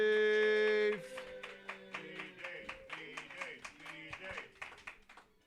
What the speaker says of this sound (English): Let's everybody give a round of applause for the Dave.